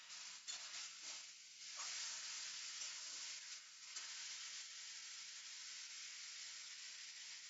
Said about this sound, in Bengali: এবার ভাপিয়ে রাখা কচুর শাকটা কড়াইতে দিয়ে দিচ্ছি।